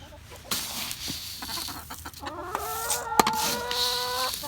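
Backyard chickens cluck and call around their food bin, a drawn-out crowing call rising over scattered clucks and scratching, close by with no talk.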